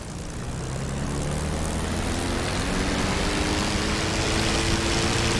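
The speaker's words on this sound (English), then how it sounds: "run the engine all the way up to 2300 RPM" A P-51 Mustang engine in the DCS World video game runs up to 2300 RPM, the propeller drone swelling from a rumble into a loud, steady, even roar that holds to the end.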